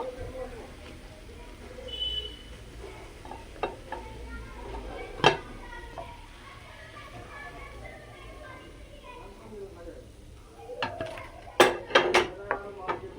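Homemade bread chops frying in oil in a pan while being stirred, with soft sizzling throughout, scattered scrapes and utensil knocks, and a cluster of sharper clinks against the pan near the end.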